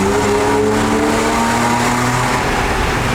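A car on a holiday road trip accelerates hard, its engine revving loudly with a rising, droning tone close up inside the cabin, sustained throughout without speech.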